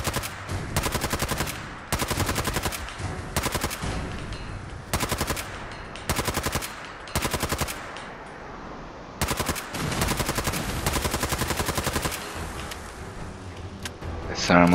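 Automatic weapon fire in the video game Fallout 4 with power armor: loud, rapid bursts of gunshots in repeated volleys separated by short pauses, continuing for many seconds.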